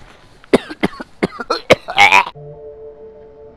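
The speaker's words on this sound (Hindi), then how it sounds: "वो खांसी हो गई, वो खांसी हो गई।" A man coughs several times in quick, harsh bursts at close range, followed by a steady tonal hum; the setting is a gathering around a cow slaughter and cooking feast.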